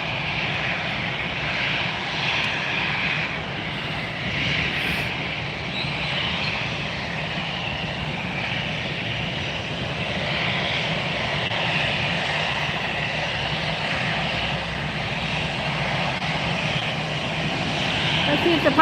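A Douglas DC-3 propeller airplane takes off at Fort Lauderdale, its engines droning steadily and growing slightly louder toward the end, with voices talking over the roar.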